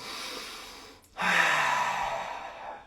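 A single deep breath taken during a guided meditation, a long airy inhale or exhale heard close and alone after a brief pause.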